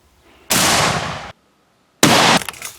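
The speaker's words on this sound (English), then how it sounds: "Now shooting the Mosin-Nagant." A Mosin-Nagant rifle fired outdoors at milk-jug plates: two loud, sharp blasts, each ringing out for a fraction of a second, separated by a brief silence.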